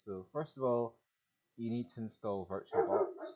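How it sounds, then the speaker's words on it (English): A pet dog barks and whimpers in short yelping bursts at a distance while someone talks nearby in an indoor room, the barks poking through between and under his speech. "That's my dog, probably going mental."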